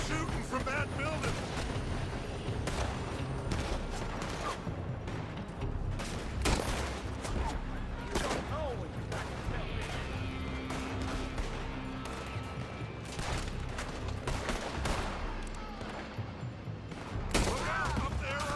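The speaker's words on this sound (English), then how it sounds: "They're shooting from that building!" Gunfire in a Red Dead Redemption 2 shootout, with shots fired from a building: scattered loud cracks and bursts over a dense rumbling battle soundscape, with shouting voices mixed in throughout.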